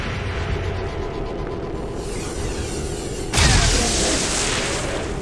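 A large explosion in the video game XCOM 2 bursts in loudly at mid-clip with a deep boom, after a low rumbling buildup, then rolls on as a broad, sustained roar without fading.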